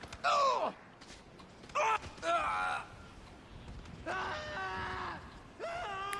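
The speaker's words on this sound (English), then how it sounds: "kick them off a cliff and listen to their detailed shrieks as they fall to their death" Game characters in Grand Theft Auto 5 let out several short, strained shrieks and groans while falling off a cliff, loud bursts separated by brief pauses.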